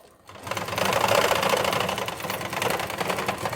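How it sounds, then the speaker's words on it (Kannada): A sewing machine stitches a blouse, running in a steady, fast, loud mechanical whir after a brief quiet start, with no talking over it. "ಒಂದು ಹೊಲಿಗೆ ಹಾಕ್ತಾಯಿದ್ದೀನಿ ನಾನು."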